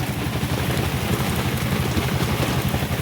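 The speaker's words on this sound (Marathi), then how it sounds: "पाऊस तर लय जोरात चालू आहे." Heavy rain in Pune roars in a dense, continuous wash of noise with a low rumble underneath, loud and unbroken throughout.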